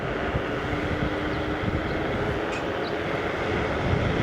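An Ausom L2 Max electric scooter running at full throttle on a long ride, with a steady loud roar of wind and motor hum that stays constant throughout and has no speech over it.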